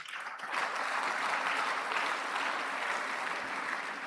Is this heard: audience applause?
yes